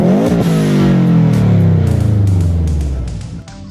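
A Subaru flat boxer engine revs loudly up and then winds down in a falling sweep, close and alone, with a lumpy uneven rumble under the pitch that fades near the end.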